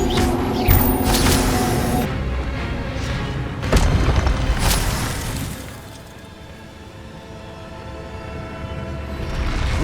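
Spell-casting explosions in Hogwarts Legacy, heavy booming blasts and crackling bursts over a dense rumbling game soundscape, loud and close for a few seconds before settling into a lower sustained drone.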